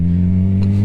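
A Suzuki GSXR motorcycle engine revs loudly and close up, a strong, steady high-RPM drone with a brief throttle blip near the end of the short burst.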